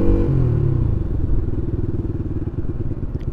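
A Rusi Flame 150 motorcycle engine revving at high RPM, close and loud, its pitch dropping briefly before settling into a fast, rough, pulsing exhaust note with no talk over it.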